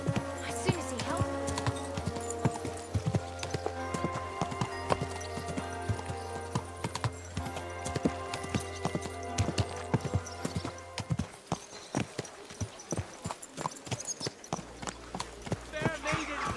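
Horse hooves clip-clop in a medieval Bohemian setting from Kingdom Come: Deliverance II, a steady rhythm of hoof strikes mixed with harness jingle and game music, with someone speaking over them.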